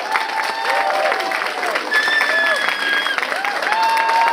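A crowd at a university convocation ceremony applauds a young graduate, steady clapping heard under overlapping voices and speech that runs throughout.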